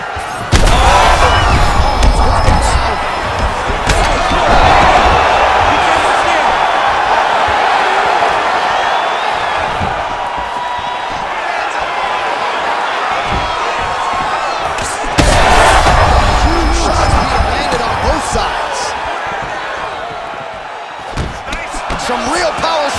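Punches and kicks thud steadily in a UFC 5 fight between Ortiz and Griffin, heavy impacts landing over a constant roaring arena crowd and commentary voices.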